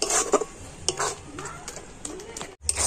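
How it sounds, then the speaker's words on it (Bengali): Fried semolina and flour mixture stirred in a pan, with repeated sharp metal spoon clinks and scrapes against the pan under a faint sizzle, with a brief pause near the end. "মানে এবার একটু নাড়াচাড়া করে নিতে হবে।"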